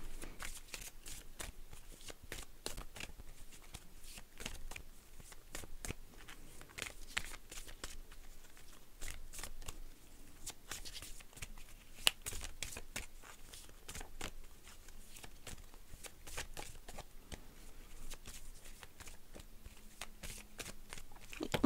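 A deck of tarot cards is shuffled and cut continuously, a steady dense riffle of papery flicks and slides up close, mostly uninterrupted, with faint speech in the background.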